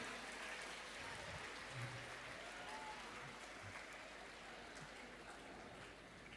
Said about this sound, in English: Now you can look at each other and welcome each other by clapping and waving to each other.